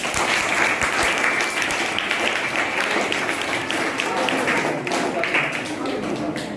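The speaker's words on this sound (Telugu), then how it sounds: "మరి హై స్కూల్ సిబ్బంది అందరికీ ఒకసారి గట్టిగా చప్పట్లు కొట్టాలి" Students clap loudly for high school staff at a school welcome and transition programme, a dense, sustained applause from a large group that keeps going evenly throughout.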